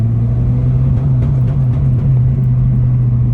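A manual truck's engine in second gear drones steadily at around 4,000 rpm, a loud, constant low rumble heard from inside the cab with only slight wavering in pitch.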